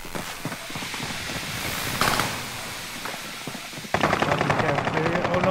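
Rapid automatic gunfire bursts in Call of Duty: Modern Warfare, loud and dense. A short break comes before another intense burst of shots.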